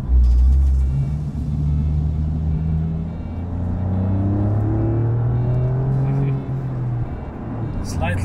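A Giulia Quadrifoglio retromod engine idles low on light throttle, a deep close rumble with gentle swells in pitch as the car moves, steady throughout with no talk over it.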